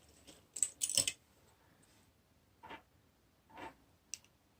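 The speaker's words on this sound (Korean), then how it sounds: "그래서 그냥 가위로 바짝 잘라주셔야 돼요." Scissors snip off a tatting lace thread tail close to a double stitch, giving a few quick, crisp clicks near the start, then two softer cuts and a final faint tick in an otherwise quiet room.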